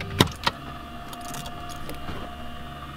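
A Chevrolet F-body car's power antenna motor switches off, with two quick clicks followed by a faint, steady low whirring that continues under light mechanical rattling.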